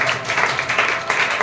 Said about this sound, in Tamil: நம்புறவங்க ஜஸ்ட் அவருக்கு ஒரு கைத்தட்ட ஆஃபரிங்கா